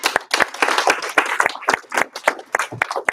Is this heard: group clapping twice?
yes